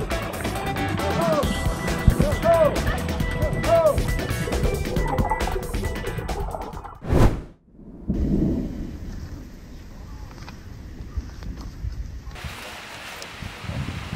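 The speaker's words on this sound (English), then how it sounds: "This is like an apocalyptic storm. I've never seen lightning strike so much without stopping." A thunderstorm with frequent lightning in Switzerland, heavy rain hissing continuously while loud thunder cracks and rolls close by, one sharp crash midway followed by a brief near-silent moment before the downpour resumes.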